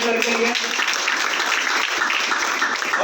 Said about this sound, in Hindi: मैं चाहूंगा जोरदार तालियां हो जाए दुबे सर के लिए।